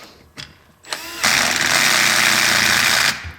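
A power tool on a very low torque setting drives a screw through a brass grommet on a 1/4 scale 4x4 RC crawler chassis, giving two short bursts and then a steady two-second loud buzzing run.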